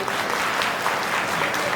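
An audience at a Home Minister TV game-show taping claps in a dense, steady burst of applause, close and even for its short length.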